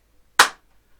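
One crisp hand clap in a Year 5 and 6 music lesson clap pattern, a sharp close snap with quiet before and after.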